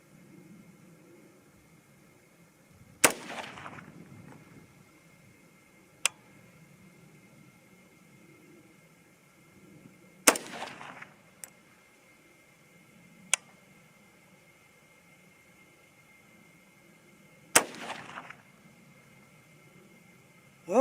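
An AR-15 rifle firing 300 HAM'R cartridges at a target outdoors: three sharp, loud gunshots spaced several seconds apart, each with a brief echoing tail, plus a couple of faint clicks between shots.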